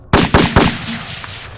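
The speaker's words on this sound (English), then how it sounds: "heard 10 gunshots" Three sharp, loud gunshots ring out in quick succession, each followed by a fading echo.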